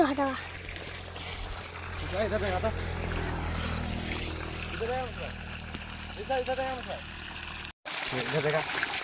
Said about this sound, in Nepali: पानी ये निकल रहा है यहाँ धरती के अंदर से